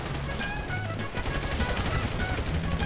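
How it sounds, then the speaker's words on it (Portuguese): Gunfire in the video game GTA V crackles in rapid, repeated bursts, loud and close, mixed with game sounds and continuing throughout. "tô tomando tiro"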